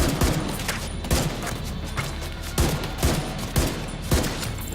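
Steady gunfire from The Division 2, rapid repeated shots with heavier cracks every half second or so, loud and close over dense battle noise, with no talk.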